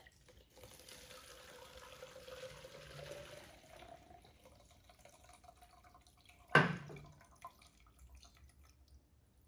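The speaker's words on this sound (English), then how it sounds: "you tip it upside down when it's really empty and a bunch of water comes out" Water pours from an upturned, nearly empty gas can into a Mr. Funnel fuel filter funnel, a steady close splashing trickle lasting a few seconds before tapering off, followed by a single sharp knock.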